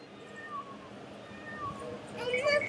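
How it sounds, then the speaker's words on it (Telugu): A battery-powered toy cat gives short, thin electronic meows when its head is touched, heard faintly under a person talking, with a louder burst near the end. "ఇది టచ్ చేస్తే హెడ్ మీద మియావ్ మియావ్ అని సౌండ్ వస్తుంది అనమాట"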